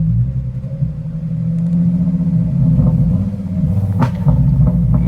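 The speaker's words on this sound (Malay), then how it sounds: "Tak tekan minyak dah meletup-letup macam mana ni Haida" A modified Volkswagen Golf R32 sits idling with a steady low engine rumble, its exhaust throwing a few sharp pops and crackles near the end, close and loud.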